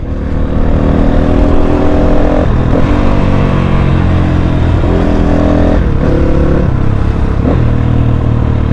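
Loud, sustained engine roar from a Crossfire motorcycle on the move, revs swelling and easing a few times over a steady rumble, with no voices.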